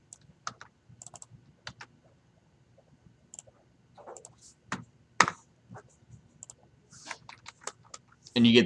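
Scattered clicks and taps of typing on a computer keyboard in bursts with pauses, quiet and close, with a short louder sound at the end.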